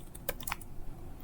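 Computer keyboard typing: a few quick key taps close by, brief and fairly soft against a steady background hiss, no voices.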